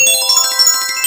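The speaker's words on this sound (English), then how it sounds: "when the last domino falls, it's going to ring the bell and make a ringing noise like this" A small hanging bell rings with a bright, sustained metallic tone, close and clear, shimmering steadily through a brief moment on its own.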